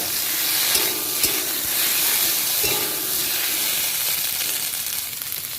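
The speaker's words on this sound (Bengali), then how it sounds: "একটু ভালো করে কষিয়ে নেব" A cumin and green chili paste sautés in a pan for a fish curry with papaya and potato. A loud, steady sizzle and hiss runs throughout, with a few faint scraping stirs and no talking.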